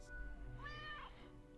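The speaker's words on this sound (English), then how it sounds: "Delighted meow." A single cat meow from the video game Death and Taxes, rising and falling with bright harmonics, heard clearly alone over a low game background hum.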